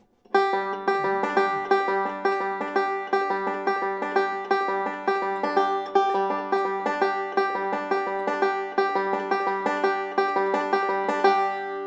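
Bright banjo rolls tumble along at a quicker clip, plucked notes cascading in a tight, driving pattern with no other sounds.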